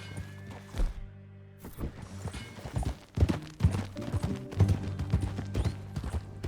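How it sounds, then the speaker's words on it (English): Horse hooves clip-clopping in the video game Red Dead Redemption 2, a series of uneven hoof strikes at a walking pace, fairly close, with a few louder thuds and scattered faint sounds between them. "That a new horse?"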